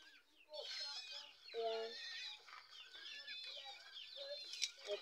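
Breeder chickens cluck and call repeatedly at close range before being given water, with someone talking briefly over the birds.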